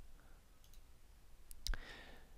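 Computer mouse clicks during a cloud software demo, with a few sharp, faint clicks spread across a quiet background.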